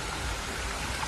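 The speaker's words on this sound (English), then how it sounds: "Rain's a free shower," Steady rain in the Amazon rainforest hissing across the whole band, an even wash of falling drops with no pauses or voices.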